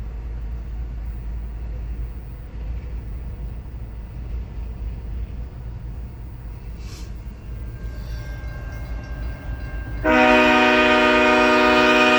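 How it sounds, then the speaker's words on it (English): A locomotive rumbles steadily past at close range for about ten seconds, then its train horn blasts loud and sustained, chords ringing over the low engine drone. "Is that locomotive being remote controlled?"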